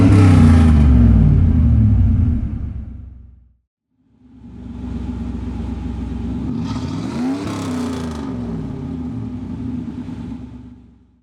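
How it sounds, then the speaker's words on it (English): Stock 305 V8 in a 1992 Chevrolet Camaro: a loud, deep engine note that fades out, then returns as a steady rumbling drive with a rising rev sweep midway, no talk. "Some quick sound clips of the stock 305."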